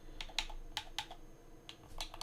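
Arrow keys on a computer keyboard are pressed in quick uneven bursts, a dozen or so close, light plastic clicks with short pauses between them and no speech.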